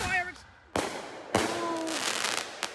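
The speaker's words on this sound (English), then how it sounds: "Fireworks!" Fireworks burst outdoors at night in three sharp booming explosions spaced apart, each followed by crackling and whistling trails, with a person's voice briefly heard early on.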